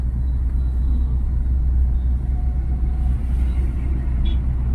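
Steady low rumble of a car driving through traffic during a driving lesson, a continuous engine and road drone with faint distant vehicle sounds and no clear speech.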